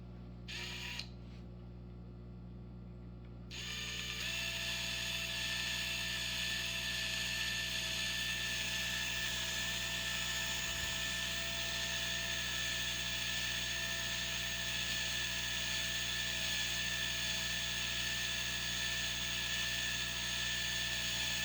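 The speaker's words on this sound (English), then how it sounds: "So continue on drilling out the other holes." A drill bores holes in a plastic printer ink cartridge, giving a steady, continuous whirring whine at close range after a brief quiet start, holding an even loudness throughout.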